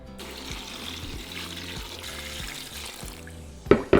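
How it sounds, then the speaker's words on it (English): Water pouring over dried chile pods in a pot for red pork pozole, a soft continuous trickle and splash at close range, ending in a couple of louder clunks near the finish. "And we're going to cover them with water."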